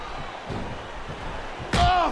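Heavy body slam of a Tombstone piledriver in the WWE SmackDown vs Raw 2008 wrestling video game, a single sharp impact near the end over crowd noise and commentary.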